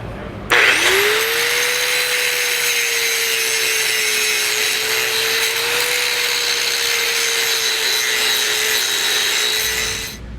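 A power grinder cuts down a metal edge below a tow hook mount while fitting a base plate on a 2016 vehicle. It spins up and grinds loud and close in one continuous pass of about ten seconds.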